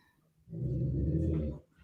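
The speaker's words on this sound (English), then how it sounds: "that's the dog. Don't worry about it." A dog lets out a low, sustained growl lasting about a second, close and fairly quiet, tapering into a soft whimper at the end.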